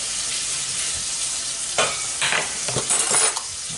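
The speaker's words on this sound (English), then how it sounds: "hear that sizzling lovely" Squirrel pieces and mushrooms frying in butter in a pan give a steady close sizzle, with brief louder crackling bursts as the pieces are stirred and turned.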